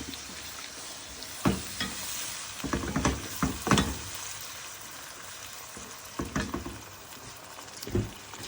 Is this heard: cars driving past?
no